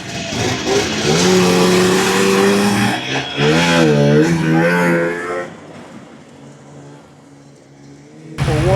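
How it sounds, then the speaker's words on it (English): A vintage two-stroke snowmobile engine catches on a single pull and revs up and down in loud, wavering bursts, then settles to a lower idle before another sharp rev at the end. "Ooh, one pull. Look at that. Lots of two-stroke now."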